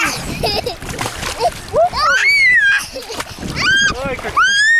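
A child splashes in sea water, with quick splatters heard close by between an adult's speech and a voice.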